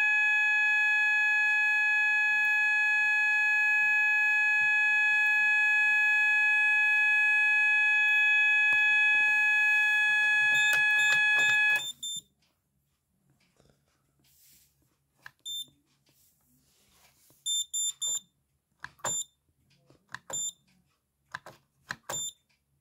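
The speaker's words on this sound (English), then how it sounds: "Sounds the beeper on the keypad." A 1989 Moose Z900 alarm system keypad beeper gives a loud, steady multi-tone beep for about twelve seconds, then stops, followed by scattered short clicks and brief beeps.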